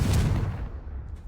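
A Confringo explosive spell goes off in the Hogwarts Legacy video game: one loud, booming blast at the start that fades into a decaying rumble over about a second, with no talking.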